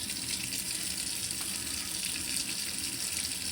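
Tap water runs steadily into a sink as parts from a Commodore VIC-20 NTSC home computer with corrosion are washed, a constant close, even gush with no talk.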